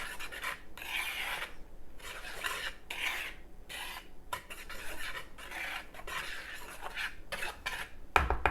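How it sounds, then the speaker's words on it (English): A wire whisk beats dry ingredients, salt and soda, together in a bowl, giving rhythmic raspy scraping strokes in regular bursts, close and fairly quiet, ending with a sharper clink. "Just use your whisk and whisk them together."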